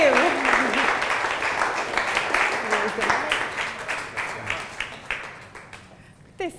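An audience claps to welcome Meir Yaniv onto the stage at a fireside chat in Tel Aviv. The applause is dense and fairly close at first, with a few whoops and voices mixed in, then thins to scattered claps near the end.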